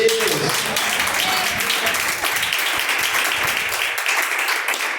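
A church congregation claps for God, a dense, continuous burst of applause with a few faint voices mixed in, tapering slightly toward the end.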